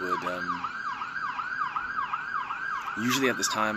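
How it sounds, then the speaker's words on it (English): A police siren wails outdoors in rapid, regular rising-and-falling cycles, fairly close and steady, with a brief different tone breaking in near the end. "you can probably hear the police, but they're not after me"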